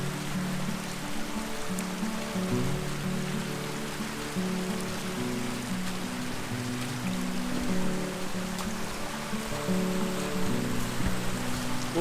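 Creek water flows in a continuous, even wash of splashing and trickling, steady and fairly close, with no voices.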